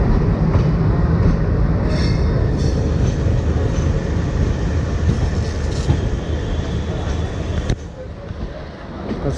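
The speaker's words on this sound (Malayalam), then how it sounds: "ട്രെയിനിപ്പോൾ സ്റ്റേഷനിലേക്ക് കയറിക്കൊണ്ടിരിക്കുകയാണ്" The Kovai Express rumbles into Coimbatore railway station, with heavy, close rolling wheels, rhythmic clatter over rail joints and faint squeals that ease off near the end.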